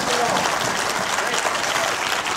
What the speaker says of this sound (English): Somebody give God a hand clap in this house.